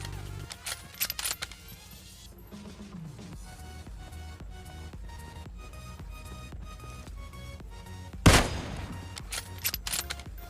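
Gunfire from teammates in the game PUBG Mobile, with rapid shots early on, steady game sounds through the middle, and a loud burst of fire and impact later, no voice over.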